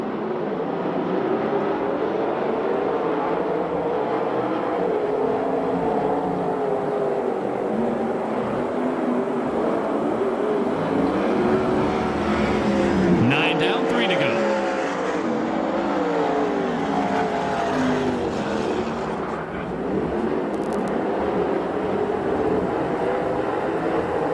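USAC/CRA sprint cars racing on the dirt oval at Perris, California, a steady heavy engine drone from a pack of cars circling the track, heard from a distance with rises and falls as they pass.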